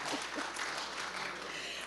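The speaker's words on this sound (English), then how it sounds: "Yes, all right, round of applause." Audience applause at an awards ceremony, a steady broadband wash of clapping from a room full of people, continuous and moderately loud for the whole stretch.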